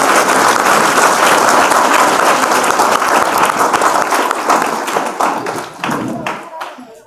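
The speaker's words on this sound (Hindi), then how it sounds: "जोरदार तालियों से स्वागत है एक बार।" A village crowd gives loud, dense applause as Sneh Dahiya arrives on stage at a welcome event. The clapping runs steady and close, then thins and fades toward the end.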